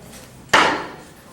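A single sharp hammer strike lands on a nail during fence mending: one close, crisp impact with a short ringing decay against a quiet background.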